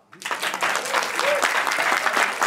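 A festival film audience bursts into applause after a restored film screening: clapping starts abruptly from silence and holds dense and lively, with a brief whoop or cheer partway through.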